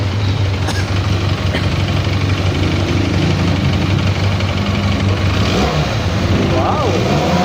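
A Benelli 302S motorcycle engine revs loudly and continuously near the listener, a steady drone that swells toward the end, with a voice briefly audible.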